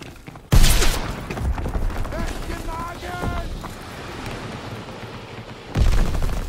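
Gunfire in Call of Duty WW2 multiplayer, loud bursts of automatic fire at the start and end with rumbling battle noise and shouted voices in between.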